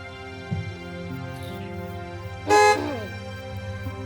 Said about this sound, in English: Why is he honking? He's supposed to just go.